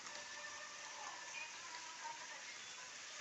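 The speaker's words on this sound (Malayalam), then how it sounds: "ചെറുതായിട്ട് ചാറി തുടങ്ങിയിട്ടുണ്ട്." Light rain drizzles outside, a quiet, steady hiss of fine drops falling without pause from start to finish.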